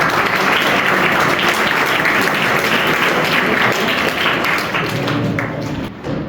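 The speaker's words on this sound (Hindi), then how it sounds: "एक बार जोरदार तालियां।" Loud, dense audience applause fills a theatre hall for a performer's welcome at a staged storytelling event, steady clapping throughout before thinning slightly at the end.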